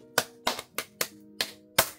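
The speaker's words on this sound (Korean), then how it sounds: "박수." A single person claps six sharp, evenly spaced hand claps at close range, each a crisp slap with a short decay, in an otherwise quiet room.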